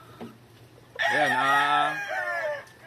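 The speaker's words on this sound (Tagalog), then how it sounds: "ito po yung pair nung ito po yung brood stag na pure na yellow-legged hatch" A pure Yellow Legged Hatch gamefowl brood stag crows once, close and loud, a drawn-out call about a second long, after a faint cluck.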